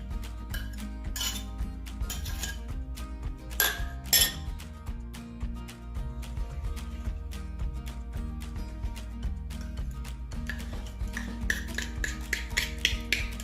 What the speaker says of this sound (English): You just add up all your ingredients and you're just gonna mix it together.